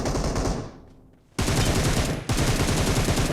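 Automatic rifle fire in a first-person shooter game, with long, dense bursts that cut out briefly, then resume in loud sustained rattles up close.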